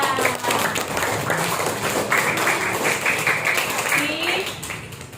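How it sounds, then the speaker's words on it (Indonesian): Children in a classroom clapping their hands together: a burst of rapid, overlapping claps, loud and close, mixed with young voices talking over them. "Tepuk tangan."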